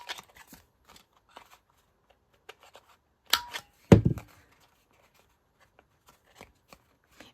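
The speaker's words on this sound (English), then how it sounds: "I think I'm going to go ahead and trim my corners." Corners of a paper craft tag being trimmed, heard as a few soft close-up snips and clicks, with two sharper cuts in the middle and quiet rustling around them.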